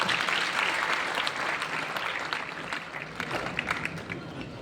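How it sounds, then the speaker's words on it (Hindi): Loud, dense applause from a large audience fills an auditorium as a guest is welcomed at a youth event in Baloda Bazar, the clapping steady and continuous throughout. "जोरदार तालियों के साथ स्वागत।"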